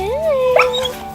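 A dog in a dog park gives a single drawn-out whimpering whine that rises then holds, loud and near, followed by a couple of faint yips.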